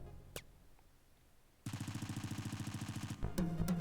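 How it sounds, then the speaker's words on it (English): Automatic weapon fire in a text adventure video game, one loud burst of rapid, evenly spaced shots lasting about a second and a half, after a few faint clicks and followed by a sharper crack and a noisy tail, with no talking. "the guard fires his automatic weapon at you and fills you full of holes"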